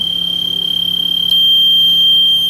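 A thermistor-based fire alarm buzzer sounds a steady, continuous high-pitched electronic tone, loud and unbroken throughout with a low hum beneath, brightening slightly partway through.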